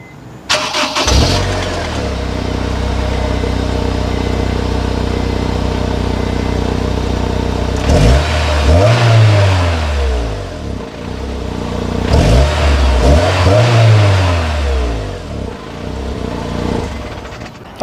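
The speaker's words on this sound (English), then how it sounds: "If you're wondering how it sounds," Honda S2000 roadster engine cranking and catching, then settling into a steady idle before two sharp revs that rise and fall, loud and close with no voices.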